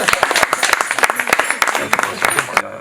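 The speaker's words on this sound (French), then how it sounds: "Bravo, on peut applaudir." Audience applause at a school event in a lycée setting, a dense burst of many hands clapping with sharp irregular claps standing out, loud and close, tapering off near the end.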